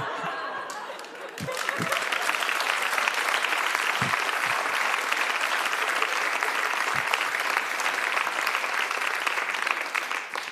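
Full audience applause at a Bavarian comedy stage show for comedian Fabian Lampert, swelling after a second into a dense, sustained roar of clapping mixed with scattered laughter and chatter, lasting several seconds.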